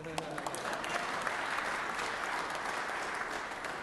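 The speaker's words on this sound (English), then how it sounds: "Yeah, you can clap." Dense, sustained applause fills a Senate chamber during a senator's address, a continuous even roar of many hands clapping at once, with voices faintly beneath it.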